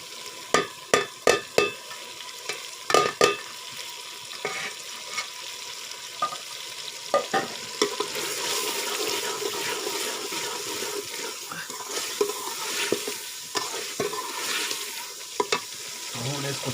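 Chungan meat frying in masala in a pot, a busy crackling sizzle with repeated sharp clinks and scrapes of stirring, fairly close, with occasional talk in the background.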